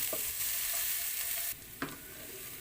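Onions frying in a pan until golden brown for chicken masala, a loud bright sizzle that abruptly drops quieter midway, with a few stirring scrapes and no talking.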